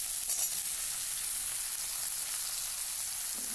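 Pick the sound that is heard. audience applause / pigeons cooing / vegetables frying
vegetables frying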